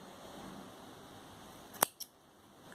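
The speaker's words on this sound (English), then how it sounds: "snip off this yarn" Scissors snip off crochet yarn with one sharp, close cut followed by a softer second click, set against a quiet room with a faint background hiss.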